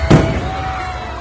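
A single sharp firework burst at a Christmas tree lighting, loud and close, with a short booming echo fading over the following second.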